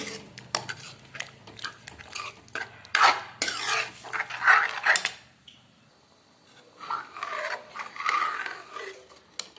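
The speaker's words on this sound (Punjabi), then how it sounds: "ਤੜਕਾ ਆਪਾਂ ਮਿਕਸ ਕਰ ਦਿੱਤਾ ਜੀ ਦਾਲ ਵਿੱਚ" A spoon scrapes and clinks against a pot as tempering is stirred into whole green moong dal, in irregular bursts of rasping strokes, close and fairly loud, with short pauses between.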